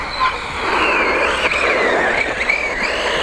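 A VKAR Racing Bison V2 RC car drifts on a road, its electric motor whining close by as the pitch rises and falls, over a constant hiss of tyres on tarmac.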